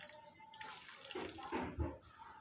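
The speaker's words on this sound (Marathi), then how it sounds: "हे पाणी आता या प्लेटमध्ये ओतून घेऊ" Water pours and splashes briefly into a shallow plate, for cleaning dirty wooden combs, faint and close, with a soft voice murmuring in the background.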